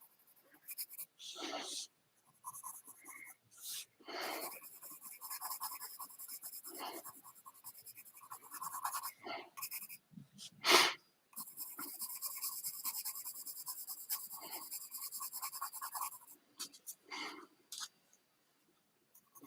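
An HB graphite pencil scratches over paper in short, rapid strokes and bursts of shading, close and soft, with quiet pauses and some faint talking between strokes.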